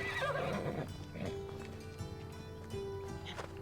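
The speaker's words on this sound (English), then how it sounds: "Let's call the horse." In Assassin's Creed Odyssey, a called horse lets out a loud whinny, then its hooves clip-clop over a steady in-game ambient drone, with no talking.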